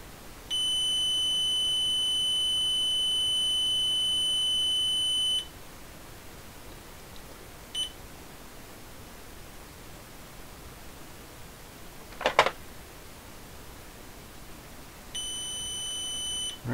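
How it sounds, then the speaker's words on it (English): Beep from an Ideal Maniac electronic game, a single shrill steady electronic tone lasting about five seconds, followed by quiet with a brief click, then a second beep starting near the end. "next one is going to play a beep, and I have to guess how long it lasts"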